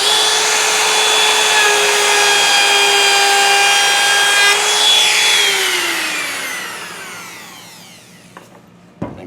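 Handheld wood router cutting left to right through a board, a loud steady high-pitched whine with a motor hum that drops in pitch as the cut ends and the bit spins down, followed by a brief clatter.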